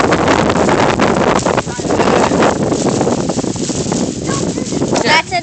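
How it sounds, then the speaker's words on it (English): Cold wind blusters over the microphone in an open field beside a cornfield, a loud continuous roar with rumbling gusts, and a person talks through it. "Take it out of the wind."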